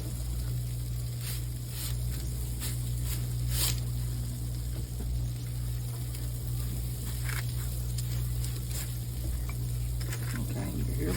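Honey butter made from butter and honey sizzles on hot homemade dinner rolls, a faint, steady crackle over a constant low hum, with no talking.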